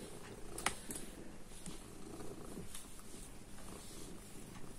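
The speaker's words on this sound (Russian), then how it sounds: "Друзья, вы слышите это урчание?" Steady low purring from two cats close by, a continuous rumbling drone with faint rustling, no talking.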